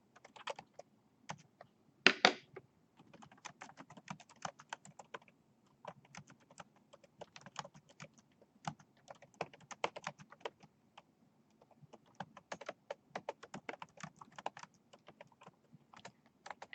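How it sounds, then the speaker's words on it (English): Steady bursts of typing on a computer keyboard, with quick irregular key clicks near and fairly quiet and short pauses between runs, heard alone with no voices. "So I'll just type that."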